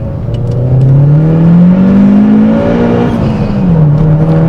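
Modified MG6 engine revving hard and climbing in pitch through second gear toward 7,000 rpm, then dropping sharply at the change into third before building again. A loud, close, steady drone with no talking.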